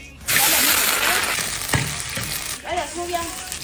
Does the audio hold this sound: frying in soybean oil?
yes